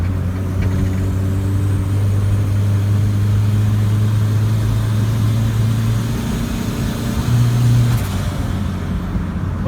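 A turbocharged automatic Honda Civic engine revs hard while driving, a loud, steady mechanical drone with rising tones that swells briefly near the end, heard alone without talk.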